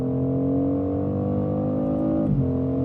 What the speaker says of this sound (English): the synthesized sound of the inline 6-cylinder coming in through the speakers